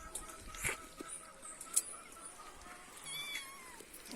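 Faint cats meow in short, scattered calls outdoors in a village while raw chicken is being cleaned, over a low hiss of background noise.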